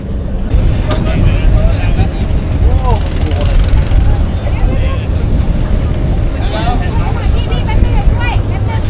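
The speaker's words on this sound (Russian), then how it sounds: "Они швартуются по новой." A boat re-mooring at a pier on Ko Sichang island in Thailand, its engine rumbling loud and close in a steady churn, with people talking over it.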